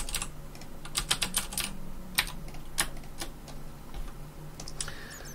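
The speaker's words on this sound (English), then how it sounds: "when you click away and you press keys, every key but the E key" Computer keyboard keys pressed in quick irregular bursts, crisp close clicks scattered over a low steady hum, with no talking.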